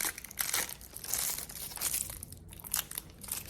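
Plastic wrapper crinkling and tearing as Swedish military ration candy is unwrapped close by, a continuous rustling crackle with sharper bursts and no speech.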